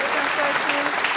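A snooker crowd applauds Mark Selby at the 2018 Champion of Champions, sustained clapping from a packed hall that carries on without a break.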